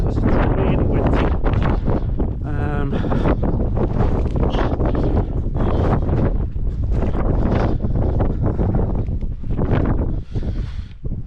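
Strong gusting wind buffets the microphone and a tent on a frozen Scafell Pike summit in subzero cold, a loud roaring rumble with flapping and rattling surges, constant and close.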